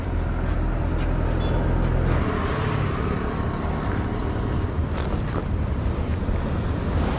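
Ocean waves breaking at a surf beach in Sri Lanka: a loud, continuous roar of surf with heavy wind buffeting the microphone, the wash rising and falling steadily without any voices.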